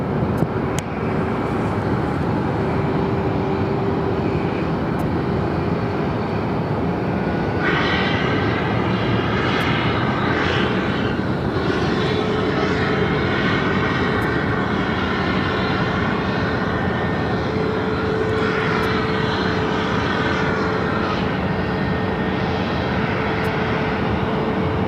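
A four-year-old Frontier Airbus A320neo in white pelican livery roars at Phoenix airport, its engines giving a loud, continuous rumble with a rising, wavering whine partway through and little else around it.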